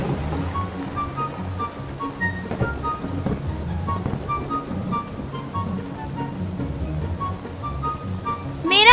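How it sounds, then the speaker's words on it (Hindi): Steady rain falls around a house, forming a continuous wash of patter that holds level throughout and swells briefly at the end. "ओह, बारिश हो रही है।"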